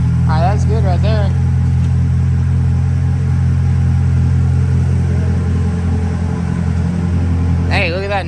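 A Chevrolet Corvette C8, just fitted with a replacement transmission, drives along with a steady loud engine and road rumble filling the cabin, while voices speak briefly at the start and the end.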